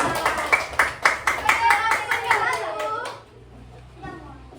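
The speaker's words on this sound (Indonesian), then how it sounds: "Tepuk tangan buat kelompok 4" Children at a school clap together for a presenting group in a classroom, a quick run of sharp, fairly loud hand claps with young voices chattering over them, fading out near the end.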